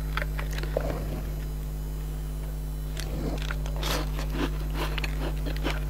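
Biting and chewing crispy, spicy food, with a few close crunchy bites followed by quieter chewing and crackles over a steady background hum.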